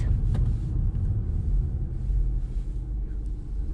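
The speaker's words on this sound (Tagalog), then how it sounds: "Daming sasakyan." Steady low rumble of many cars moving near a parking area, continuous and fairly loud throughout with no single vehicle standing out.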